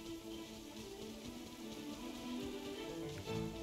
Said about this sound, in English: Did you hear that? Oh my god, is it raining?